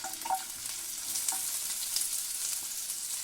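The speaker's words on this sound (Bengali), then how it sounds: "আমি একটু মশলাটা ভেজে নেব" Spices frying in a pan with tomato, garlic and onion, a steady bright sizzle with soft crackles and faint stirring scrapes, close and continuous without any talk.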